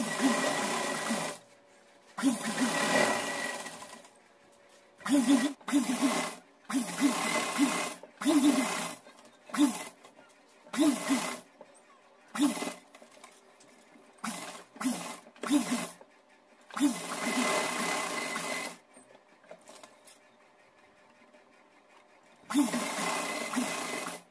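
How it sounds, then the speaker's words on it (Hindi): Electric sewing machine stitching overlapped fabric pieces into a dress and frame for a picture of a deity, running in repeated bursts of a few seconds each with short pauses between, close and steady. "ये ओवरलैप करके यहाँ से लेकर के यहाँ तक हम सिलाई लगा लेते हैं 3 से।"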